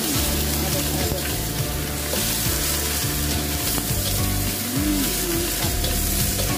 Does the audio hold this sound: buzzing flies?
no